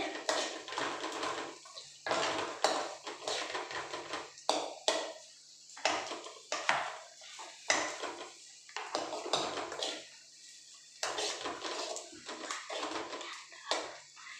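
Star anise and spices frying in oil in a cooking pan, giving a steady sizzle broken by repeated scrapes and clinks of a utensil against the pan, close and fairly quiet throughout.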